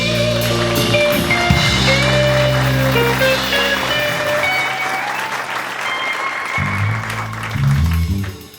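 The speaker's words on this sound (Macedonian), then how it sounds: "Аплауз за Калиопи!" A crowd applauds Kaliopi on a talk show, with dense, sustained clapping close up that thins slightly before a fresh swell near the end.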